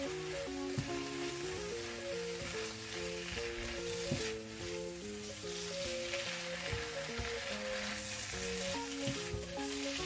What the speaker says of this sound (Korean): 조급해하지 마시고 시간에 여유를 두고 김치를 잘 볶아주셔야 돼요.